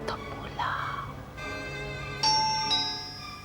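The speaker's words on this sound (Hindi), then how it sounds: "अरे कौन है इस वक्त घंटी बजा रहा है बार बार?" A doorbell rings at night, first a breathy chime and then clear electronic ding-dong tones sounding twice in quick succession, with faint background ambience between the rings.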